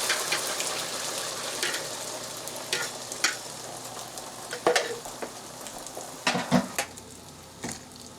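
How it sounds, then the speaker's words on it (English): Scrambled eggs cooking in a pan beside venison breakfast fixings, a steady sizzle broken by repeated scraping and clinking of a utensil against the pan, close and busy throughout. "I'm going to go ahead and make some scrambled eggs here to go along with this"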